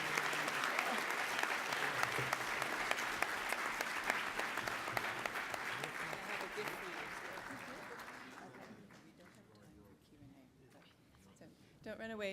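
Conference audience applauding a physician speaker at a healthcare event, a dense burst of clapping that thins out and fades near the end, followed by a voice speaking.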